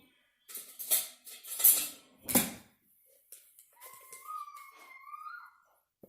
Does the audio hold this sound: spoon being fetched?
yes